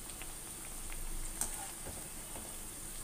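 Madakku sweet dough frying in hot oil, a soft, steady sizzle and crackle with a few faint pops, close and alone without talk.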